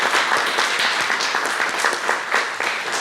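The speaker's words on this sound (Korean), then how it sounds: "미리 우리가 감사와 축복의 박수 한번 칠까요?" Members of a church congregation clap together in sustained, even applause, filling the room with dense, close clapping.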